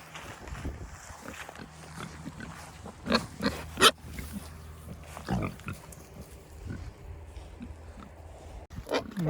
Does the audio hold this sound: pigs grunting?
yes